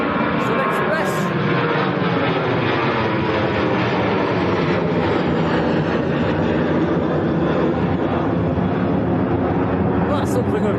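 A Sun Express airliner at Manchester Airport gives a loud, continuous, broadband engine roar that holds steady throughout, heard from a distance with voices in the background.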